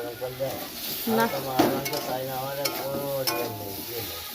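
Pumpkin flower fritters sizzle in a frying pan with occasional scrapes and stirring clinks, close by, while people talk over the cooking.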